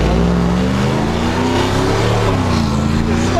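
A supercharged Chevrolet Silverado truck roars loudly at the starting line during a burnout, its engine revving hard with rising and falling pitch, close and continuous.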